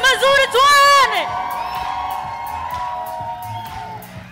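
A church congregation at a Kikuyu service cheers in a loud burst of voices, shouts and whoops, then a sustained tone carries on beneath lighter crowd noise.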